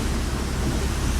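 Heavy rain falls in Kerala as a vehicle heads out into the downpour, a steady, dense wash of noise that fills the whole short stretch without a break.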